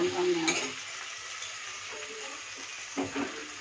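Garlic and onion fry in hot oil for chilli cabbage, a steady close sizzle with a stirring scrape near the start and another brief clatter near the end; no one speaks.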